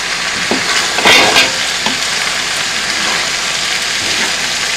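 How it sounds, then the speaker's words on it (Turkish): A tomato and green pepper sauce fries in a pan as it is stirred. A loud, even crackling sizzle fills the clip, with a brief spoon-on-pan clatter near the start. "Karıştırıyorum."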